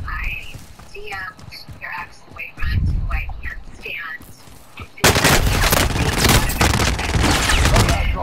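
Gunfire from a modern military shooter video game, with scattered shots and whispered radio-style voice lines at first, then a dense, loud burst of continuous automatic fire filling the second half.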